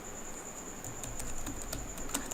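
Typing on a computer keyboard sounds as a run of light, irregular key clicks at moderate distance over a steady electronic hum, with no talking.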